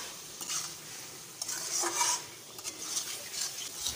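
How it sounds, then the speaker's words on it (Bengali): A spatula stirs prawn marinade in a pan, soft scraping and light sizzling strokes repeating irregularly, close and fairly quiet with no talk. "এরপর সমস্ত কিছু ভালো করে বেশ কিছুটা সময় ধরে খুন্তি দিয়ে ম্যারিনেট করে নেব।"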